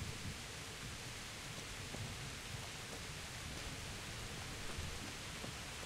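Rain and a thunderstorm in the video game Kingdom Come Deliverance, a steady broadband hiss of heavy rain with low rumbling underneath, continuous and fairly even in level.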